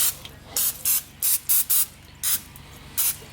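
A series of short, sharp hissing bursts from a can of cooking spray, evenly spaced with brief pauses between them, close by.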